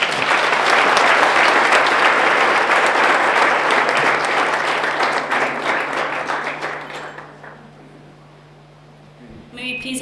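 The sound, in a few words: audience applause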